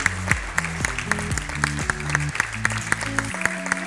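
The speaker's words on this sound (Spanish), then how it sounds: "un fuerte aplauso a este egresado" Families clap at a kindergarten graduation ceremony, with crisp, scattered claps sounding over a bright melodic tune playing throughout.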